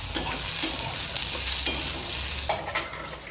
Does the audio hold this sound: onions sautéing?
yes